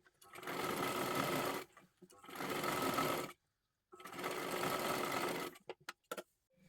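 A sewing machine stitches lining onto silky fabric in three long runs of steady whirring, each about a second and a half, broken by short pauses, then a few quick bursts at the end; close and fairly loud, no talk.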